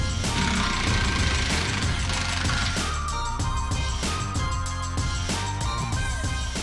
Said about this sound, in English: So I can go ahead and remove the rest of the bolts on each side of the transfer case skid plate and take it down.